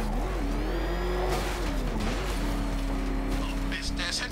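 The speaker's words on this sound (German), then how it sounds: "Ich geb Gas. Mein Batmobil fährt 210." The Batmobile in Batman: Arkham Knight accelerates hard, its engine note climbing and wavering in pitch as it roars at speed, close and loud, with a voice talking over it.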